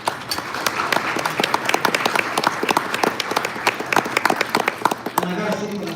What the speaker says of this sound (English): Let's give a round of applause this time.